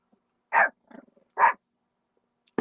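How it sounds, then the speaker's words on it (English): Two sharp, loud dog barks a second apart, followed by a softer muffled woof and another bark cut off at the end. "That's why the dogs are barking."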